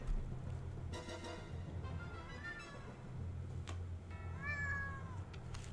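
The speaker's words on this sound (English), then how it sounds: "Oh, we got a furry visitor of my cat." A house cat gives several clear meows with rising and falling pitch. The calls are fairly faint and spaced out over a low background hum, with a few sharp ticks between them.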